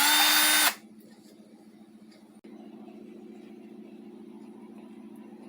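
A power drill spins engine valves through small rubber tubes to lap them in on a Mitsubishi Triton 2.5L 4D56 diesel, first with a loud whine, then dropping to a lower, steady close-up drone.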